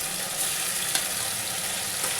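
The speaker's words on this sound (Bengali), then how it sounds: "এটা একটু ভালো করে ভেজে নেবো আমি" Garlic fries in a pan while black chickpea ghugni is being made, giving a steady, soft sizzle with a faint stir or two and no talking.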